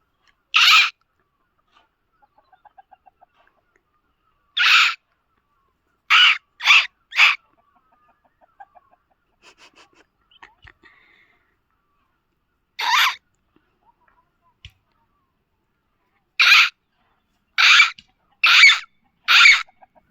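Loud, sharp squawks from chickens burst out in scattered clusters, some in rapid runs of three or four, with quieter clucking and rustling between them.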